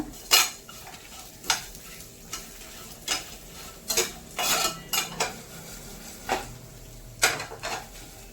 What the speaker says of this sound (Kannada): ಇಷ್ಟು ಒಂದು 10 ಎಸಳು ಮೆಣಸು ಹಾಕೋಣ